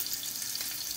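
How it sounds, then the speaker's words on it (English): Pork chops sizzle while frying in a pan, a steady bright hiss of spitting fat that continues evenly throughout with no voices. "Hey, what is this? It sizzles."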